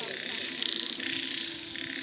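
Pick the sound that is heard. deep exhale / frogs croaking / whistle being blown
frogs croaking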